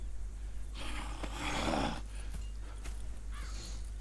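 Horse sounds in the video game Red Dead Redemption 2, a moderately loud snort or whinny-like burst near the middle over a steady low hum, with fainter shuffling and clopping noises around it.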